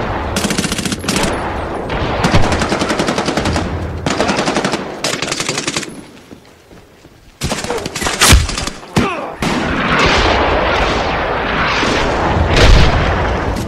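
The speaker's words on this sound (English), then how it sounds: "Can't wait to shoot my grenade launcher through the doorway" Loud bursts of automatic gunfire and heavy booms from Medal of Honor (beta, Xbox) combat, with a grenade launcher firing; rapid dense volleys give way to a brief lull, then more blasts and sustained rumbling fire.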